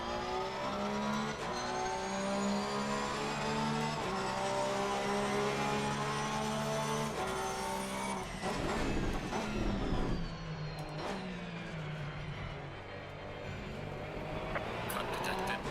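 A race car engine in the Assetto Corsa racing game roars steadily throughout, shifting pitch as it revs up and down through gear changes, loud and close with no break.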